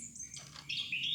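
Orange-headed thrush (anis kembang) chirping in a cage, with a few thin, high chirps and tweets close by and alone, growing a bit louder toward the end.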